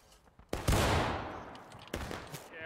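Musket fire at running enemies in a multiplayer war video game, one loud close blast with a long rumbling tail followed by a second, lighter shot and scattered faint pops.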